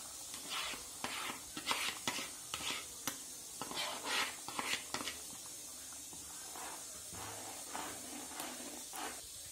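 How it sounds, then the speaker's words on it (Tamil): Ground coconut paste is poured into a simmering fish gravy in a pan, with close, irregular splashing and stirring bursts over a faint, steady hiss. "இந்த ஸ்டேஜ்ல ஒரு கப் அளவுக்கு தேங்காவை அரைச்சு ஊத்திக்கலாம்"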